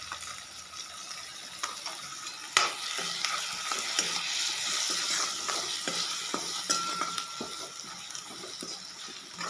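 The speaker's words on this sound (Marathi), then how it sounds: "एक दोन मिनटं मसाले आपण शिजू देणार आहोत" Spices for okra bhaji fry in oil in a pan, a soft steady sizzle broken by scraping stirs and small clinks of the spoon, close and fairly quiet, with no talk.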